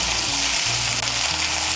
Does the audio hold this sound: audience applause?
no